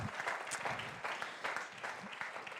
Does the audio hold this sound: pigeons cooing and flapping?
no